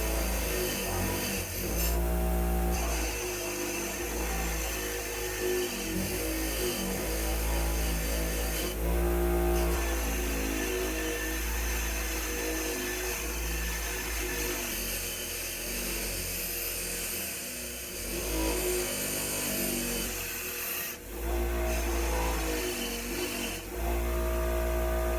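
A polishing wheel buffing a dirt bike metal part to a chrome-like shine, giving a continuous loud whirring drone with a low motor hum, its pitch and grit shifting as the part is pressed and moved against the wheel.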